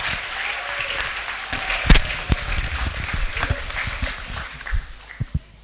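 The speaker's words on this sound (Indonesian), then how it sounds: "tepuk tangan dulu buat beliau" A crowd at a university communications faculty graduation judicium announcement claps to honour a lecturer. The applause is a continuous, fairly even patter, with a few sharper claps and thumps standing out, and is heard alone without talk.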